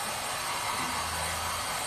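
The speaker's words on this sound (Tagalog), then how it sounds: "Kahit mainit, kailangan ng blower." A blower dries a dog's wet fur after a bath, a loud, close, continuous rushing whoosh of air that holds steady throughout.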